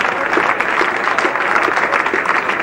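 Steady, even applause from the crowd at Edgbaston as a Pakistan batsman walks off the field in the 1971 England v Pakistan Test, sustained, dense clapping with no pause.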